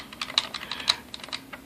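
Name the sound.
typing the password CISCO on keys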